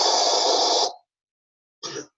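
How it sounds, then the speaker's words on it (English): A pink noise test signal sounds as a steady, full-bodied hiss for just under a second, then stops, followed by a second short burst after a silent gap. "pink noise"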